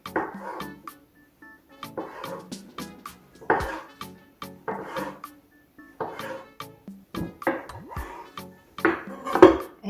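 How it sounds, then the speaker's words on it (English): A knife chops repeatedly through rolled-up keto pasta on a cutting board, producing a steady series of close, sharp taps and knocks at an irregular rhythm, with no voices. "now you're literally going to cut it like that"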